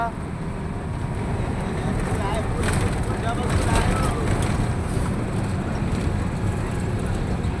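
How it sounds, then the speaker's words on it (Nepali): Cold wind sweeps across Batase Danda hill above the Trishuli River, a steady, loud broadband roar buffeting the microphone throughout with no breaks. "बतासे डाँडाको चिसो हावा आयो।"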